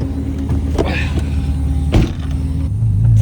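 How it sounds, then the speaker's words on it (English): A V12 twin-turbo Toyota Supra sits with its fuel pump whining loudly over a low, constant engine rumble, a steady, close, buzzing drone with a small thump midway. "You can't even hear the car because the fuel pump is so insanely loud."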